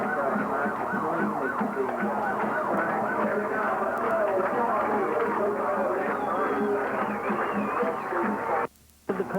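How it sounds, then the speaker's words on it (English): A siren sounds across a high school football stadium before kickoff, a steady loud wail filling the field under crowd noise and talk, cutting out briefly near the end. "And all he'll be able to do, Alan, today is just sound the siren."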